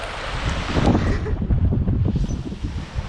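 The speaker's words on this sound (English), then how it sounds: "we get plastered by another squall" Strong squall wind roars across a microphone aboard a sailing boat at sea during a Pacific crossing from Mexico to French Polynesia, a loud, continuous buffeting rush with low gusty rumble and no speech.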